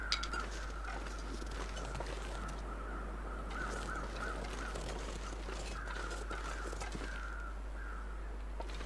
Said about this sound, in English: I'm guessing those crows is the wolf that I shot.